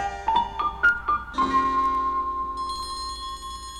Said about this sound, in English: The next day, when the bell rang for lunch, Albert said